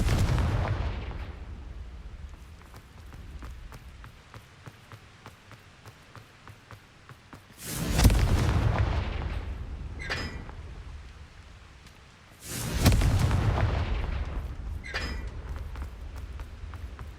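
Confringo blasting curses explode in Hogwarts Legacy, two loud booming bursts several seconds apart, each followed by a crackling tail, over a steady background of game ambience and soft footsteps.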